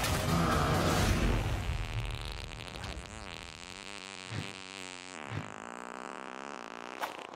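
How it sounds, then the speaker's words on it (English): Drawn-out comedic fart sound effect from the Teen Titans Go! To the Movies trailer, a long wavering, sputtering buzz that bends in pitch over several seconds, ending in a few brief pops and tapering off. "that fart joke from the trailer"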